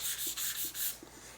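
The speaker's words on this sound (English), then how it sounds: "I'm letting the sandpaper do its job" Sandpaper works back and forth over a panel coated in Createx UVLS gloss clear, giving close, hissing, rhythmic strokes, about four in quick succession.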